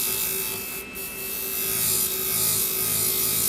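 Hair salon shears with a convex edge worked lightly along the bevel against a sharpening surface, a continuous close abrasive hiss with a steady underlying hum, no talk.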